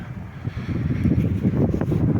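Low, rumbling wind buffets the microphone in steady gusts at a river port on the Dnipro in Kamianske, with no one speaking.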